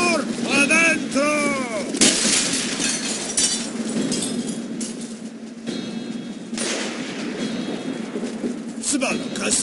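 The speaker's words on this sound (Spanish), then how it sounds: "El disparo venía del otro lado del río." Sniper fire in the Call of Duty: World at War mission Vendetta, with loud gunshots and booming blasts cracking across a river under ongoing battle noise while voices shout over the action.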